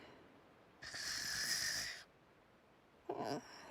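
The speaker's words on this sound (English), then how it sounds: "She snores." A sleeping character snores in the video game Genshin Impact: one long, breathy snore of about a second, then a shorter snort-like breath after a pause, both close and fairly quiet against a hissy background.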